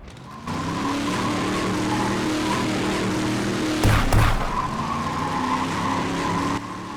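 A drag-engine vehicle in the Brick Rigs video game roars with a steady, heavy engine drone, broken midway by a short cluster of sharp backfire bursts, then keeps rumbling until it cuts off near the end.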